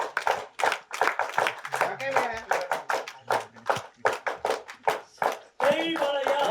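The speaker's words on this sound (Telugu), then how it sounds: "1 2 1 2 3 క్లాప్ చేయండి ఒకసారి." A crowd at a movie trailer launch event claps together in a rhythmic counted pattern of sharp, close handclap bursts, with a voice leading and talking between and over the claps.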